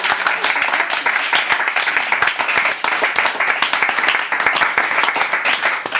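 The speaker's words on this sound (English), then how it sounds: "I'd like you to give more applause, please, for our other performers tonight" Lively audience clapping for performers at an evening poetry and music event, close and energetic with distinct individual claps throughout.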